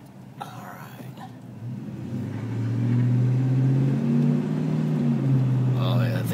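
A 2004 Dodge Ram pickup with a 5.7L HEMI V8 accelerates on a pothole-ridden road, its low engine rumble climbing and growing louder over several seconds, with brief quiet talk near the start.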